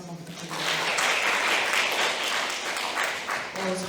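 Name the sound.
audience applause after a forum presentation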